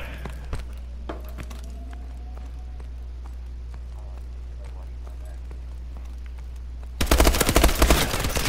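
Gunfire in a Team Deathmatch match of Call of Duty: Advanced Warfare erupts suddenly after a long quiet stretch, a loud, rapid, close burst of automatic shots near the end, with a voice present.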